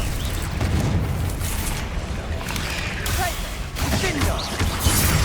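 Blasts from the Confringo fire spell in Hogwarts Legacy, loud booming bursts over a dense roar of combat, with a voice shouting spells throughout.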